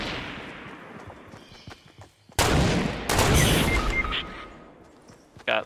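Gunfire in the Fortnite Battle Royale video game comes as sharp cracks and bursts, some distant and faint, others loud and close, with one heavy blast partway through and a final short burst.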